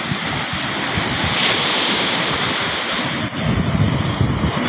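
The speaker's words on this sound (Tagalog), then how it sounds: "Lalaki na ng alon doon sa taas." Pacific Ocean surf rolls in on the seaside at Salcedo, Eastern Samar, a loud, continuous wash of breaking waves with heavy wind buffeting the microphone and a brief dip near the end.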